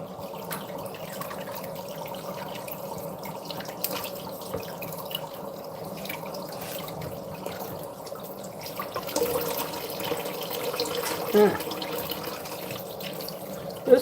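Water running from a kitchen tap, a steady soft splashing hiss that carries on throughout and picks up slightly toward the end, with a few small clinks and no talking.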